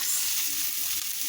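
Onions and garlic fry in a pan with a dense, even, close sizzle that holds steady throughout the short stretch, with no voices.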